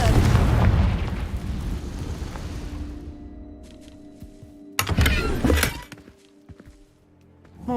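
A Confringo fire spell in Hogwarts Legacy bursts with a loud, rumbling explosion that fades over a few seconds, then a second sharp blast flares near the middle before things quiet down.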